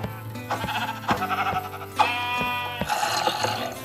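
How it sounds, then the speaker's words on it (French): Sheep in the Minecraft video game bleating loudly in several wavering calls, with a few sharp clicks and footsteps from gameplay between them. "Dégage, sale mouton."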